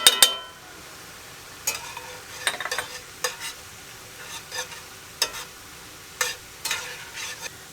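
Seasoned meat with cumin and black pepper browning in a pan, a soft background sizzle broken by intermittent scrapes and clinks of a utensil stirring, close-up.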